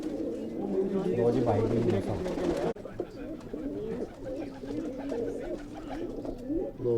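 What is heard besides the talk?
pigeons cooing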